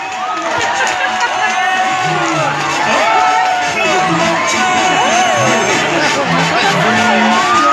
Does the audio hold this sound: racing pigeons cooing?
no